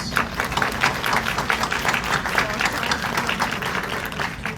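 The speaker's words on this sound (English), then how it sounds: "we give her a round of applause" An audience at a county commissioners meeting applauds, a dense wash of clapping from a roomful of people, moderately loud and steady with faint voices underneath.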